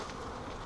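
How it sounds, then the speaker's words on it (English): Wild bees from a swarm catch buzz in a dense, steady drone at close range for a brief moment, with no talking. "I know it's kind of scary because there's bees everywhere."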